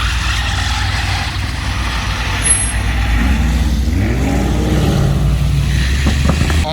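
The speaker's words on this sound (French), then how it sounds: "Urus Verdemantis sur le départ" A green Lamborghini Urus pulls away at night in Monaco, its engine rumble rising steadily under a continuous traffic wash, loud and close, with a brief hiss near the end.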